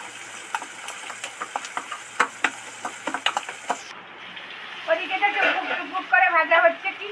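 Jackfruit seeds with spices frying in a pan, a steady sizzle with scattered ticks and stirring scrapes, close by, and people talking over it.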